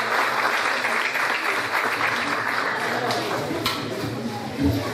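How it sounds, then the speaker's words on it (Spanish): Audience applause welcoming a doctor onstage at a lecture on carbon monoxide poisoning in Córdoba, a dense, steady clapping that fills the room for the whole stretch. "Recibamos con un aplauso"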